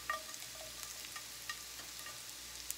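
Raw bacon strips laid and spread across a hot 10-inch oven-safe skillet with the heat just turned off, giving a faint, steady crackling sizzle broken by a few soft clicks of handling.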